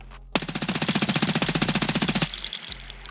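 A rapid burst of automatic fire from the SR2M compact submachine gun in Escape From Tarkov, fired from a crouched stance, about two seconds of evenly spaced shots that stop abruptly, followed by a quieter tail.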